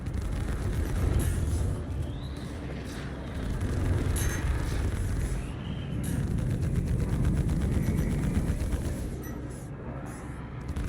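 Ship cannons firing from an Anvil Pisces C8X during a space dogfight in the game Star Citizen, a dense, continuous roar of rapid shots and engine rumble that swells and dips steadily throughout, with no pauses.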